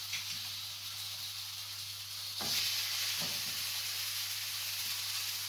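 Steaks sear in a very hot pan with a steady, bright sizzle and hiss throughout, briefly intensifying midway as they settle, with a low background hum.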